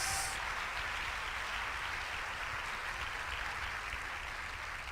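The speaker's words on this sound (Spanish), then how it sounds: "Dale un fuerte aplauso al Rey de Reyes" Sustained applause from a church congregation during a worship service, a dense even wash of clapping that holds steady throughout.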